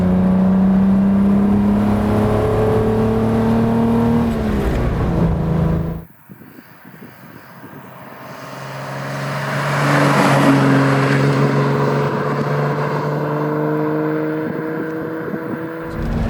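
A 1955 Bristol 404 sports car engine revs hard and loud, dips abruptly as it shifts into second gear, then climbs again with a rising roar toward about 3,000 RPM.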